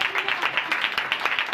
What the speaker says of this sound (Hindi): खुदावंद के लिए जोरदार तालियां